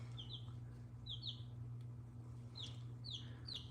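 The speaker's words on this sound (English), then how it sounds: "Can you guys actually see my baby chickens right over here?" Baby chickens peeping in short, high, downward-sliding chirps that come in small bursts of two or three, over a steady low electrical hum.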